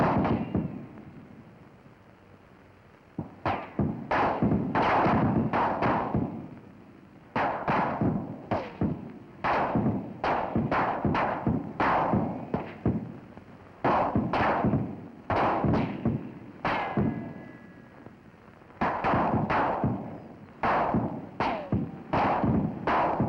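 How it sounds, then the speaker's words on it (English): Twelve Springfield rifles firing, heard from the target end under fire: sharp cracks and thumps in irregular volleys and clusters, loud and close, with short gaps between bursts. "Now listen to 12 Springfields as the soldier under fire hears them."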